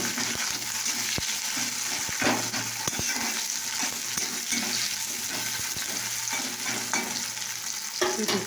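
Sliced onions and two slit green chillies frying in hot oil in a wok, a loud continuous crackling sizzle with brief stirring knocks scattered throughout.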